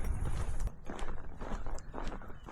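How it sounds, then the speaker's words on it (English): Horses on a ranch pasture beside a trail near the Seminole Reservation in Florida, with soft, irregular hoof thuds and shuffling steps close by, loudest at the very start. "Some beautiful horses over there."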